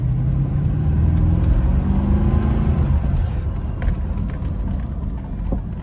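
A 1996 Chevrolet Impala SS driving on a road, heard as a low, steady engine rumble and road noise from inside or near the car, with a slight rise in engine note partway through and no speech.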